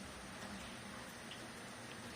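Steady, even hiss of rain falling, soft and continuous with occasional faint drops, no voices.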